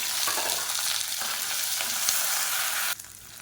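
Whole shallots sautéing in oil with garlic and a sprig of curry leaves for egg thokku, a dense steady sizzle close up that drops away abruptly near the end, no speech.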